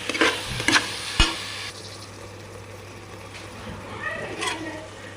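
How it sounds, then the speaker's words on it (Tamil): Mushrooms frying in a pan for mushroom biryani, with a soft steady sizzle and several loud scraping stirs of a spoon at the start and again near the end. "மஷ்ரூம் ஆட் பண்ணி நல்லா கலக்கி விட்டுருங்க."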